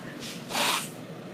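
Someone sneezes once, a short, sharp, breathy burst close by after a faint lead-in breath, during work on a Christmas table centerpiece with greens and foam.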